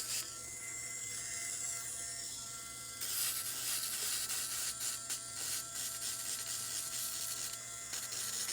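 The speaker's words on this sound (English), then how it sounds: "I just love this little sanding tool." A small handheld sanding tool works on a cosplay prop with a steady close buzzing rasp that grows louder and rougher after a few seconds, then pulses in short strokes, with no talking.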